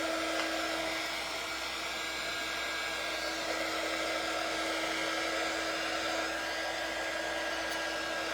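A hair dryer blows steadily on craft pieces, a loud continuous whirring hiss with a fixed motor whine that runs unbroken throughout.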